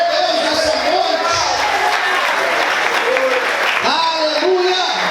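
Dense applause from a large church congregation during worship fills the room, steady and loud throughout, with a voice calling out over it.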